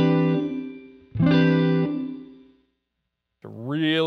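A distorted electric guitar sent through a reverb effect set to a very large room size plays sustained chords, with notes ringing out and decaying into a long tail before a new phrase starts; no voices.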